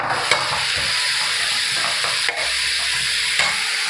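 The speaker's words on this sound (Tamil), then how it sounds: "இஞ்சி பூண்டு, கறி மசாலா, மஞ்சத்தூள், வெங்காயம், தக்காளி இது எல்லாமே நம்ம சேர்த்துக்கிட்டு வதக்கி விட்டுறலாம்." Ginger garlic, curry masala, turmeric, onion and tomato sizzle steadily in a pan for an intestine curry, with a few stirring scrapes over the constant frying hiss and no talking.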